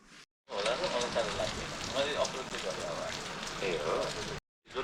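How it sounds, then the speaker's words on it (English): Monsoon rain pouring steadily close by, a dense hiss of drops on surfaces with a faint voice mixed in, starting and stopping abruptly. "suddenly it started to rain"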